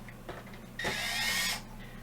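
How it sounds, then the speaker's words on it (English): A power screwdriver backs screws out of a military surplus battery adapter, the BTA-7084 for a PP-8481 charger, giving a short close whirring burst of under a second after a few faint clicks and handling taps. "let's unscrew some screws"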